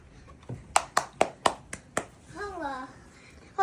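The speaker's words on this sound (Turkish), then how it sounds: "Ve Sedef kazandı. Yeah, Alkışlıyoruz." At home, a family claps for the winner of a homemade game: about six sharp, spaced claps, close and loud, followed by a voice speaking.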